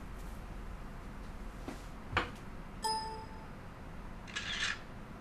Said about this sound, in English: You heard a ding for ready and a photo clicking sound.